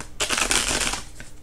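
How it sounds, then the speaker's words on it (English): Tarot cards riffled side to side in small hands, a brief close rapid papery shuffle lasting about a second with a soft tail. "I shuffle side to side because my hands are small."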